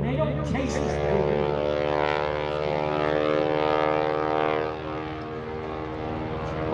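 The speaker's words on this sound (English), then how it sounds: "Marcus Paine, Parker Smoke On, bringing the airplane in" A wingwalking biplane flying in at an airshow, its propeller engine droning in a steady, sustained roar that swells and eases slightly, with an announcer talking over it.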